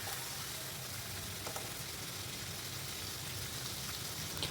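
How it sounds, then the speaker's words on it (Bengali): Hilsa fish frying in hot oil gives a dense, steady crackling sizzle that stays even and continuous throughout, with no voices. "ভেজে নিচ্ছি মাছগুলো"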